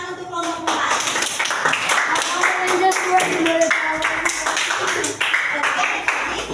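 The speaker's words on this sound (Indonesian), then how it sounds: "berikan tepuk tangan untuk kelompok 4." A classroom audience claps for a group presentation, dense steady clapping sustained throughout, with some voices and cheering mixed in underneath.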